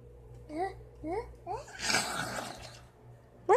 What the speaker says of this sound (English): What in the world? That was a sneeze.